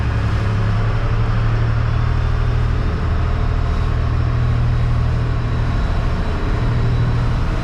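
Boat engines running steadily at 1600 RPM on a sea trial, a loud continuous low drone with a constant hum and no talk.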